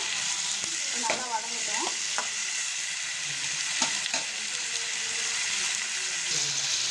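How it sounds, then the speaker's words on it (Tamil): Onions sautéing with salt in a pan for paneer capsicum gravy, a steady frying sizzle broken by a few scraping stirs, close and continuous with no talking. "கொஞ்சமாக உப்பு சேர்க்குறேன், வதங்குறதுக்காக நல்லா"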